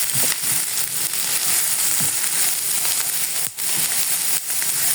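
Minced garlic sautéing in a hot pan for shakshuka, a loud, steady crackling sizzle that fills the whole clip with dense, continuous frying noise and brief dips, no voices present.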